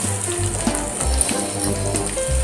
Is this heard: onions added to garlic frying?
yes